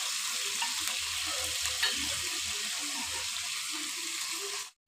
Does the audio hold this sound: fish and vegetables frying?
yes